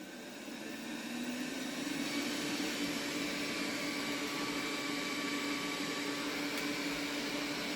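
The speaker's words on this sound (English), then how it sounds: "Hey Google, vacuum the house. Starting selective room cleaning." Robot vacuum cleaner, started by a voice assistant for room cleaning in a home recording studio, spins up after about a second into a steady, fairly quiet broadband whir with a faint motor hum, running alone without talk.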